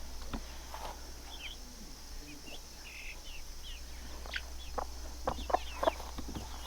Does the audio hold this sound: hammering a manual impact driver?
no